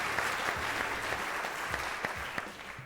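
An audience claps together, a dense, loud patter of many hands with a few sharper individual claps standing out before it eases slightly at the end.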